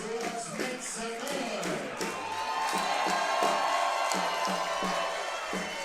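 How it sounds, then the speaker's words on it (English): A baseball crowd at a championship game, two outs in the ninth inning, claps in unison with a steady rhythmic beat. Cheers and a broad roar of the stands run beneath the claps, and a voice speaks over them. "You can hear the heartbeat in this crowd as they clap in unison"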